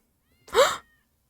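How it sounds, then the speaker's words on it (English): A single short cat meow from a Chainsaw Man anime episode, clear and alone in quiet, lasting under half a second. "Oh my god, I thought they were gonna kill a cat."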